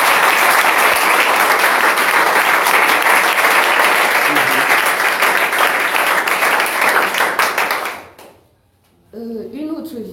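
A church congregation claps loudly and continuously in dense applause for about eight seconds, then it drops off abruptly and a voice begins speaking.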